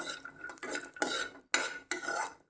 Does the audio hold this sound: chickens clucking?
no